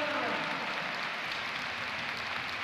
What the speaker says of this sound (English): it's a deserved applause for the record breaker